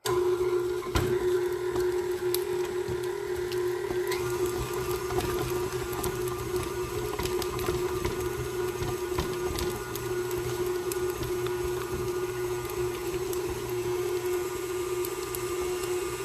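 A KitchenAid stand mixer whipping shea butter whirs steadily with a constant motor hum and a faint rattle, running nonstop at one even speed.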